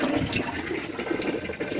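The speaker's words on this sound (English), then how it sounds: "Here's the water running over here." Water running in a small garden water system that feeds toilet water and chickens, a steady near splashing gush flowing over a pipe or bucket, heard alone.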